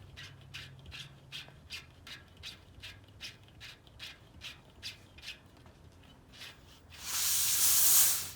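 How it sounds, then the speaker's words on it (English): Compressed air hisses from a bicycle tire valve fitted with a Briskmore CO2 inflator, a loud steady rush near the end following a series of short rhythmic rubbing or hissing bursts. "you would just turn like this and let some air out"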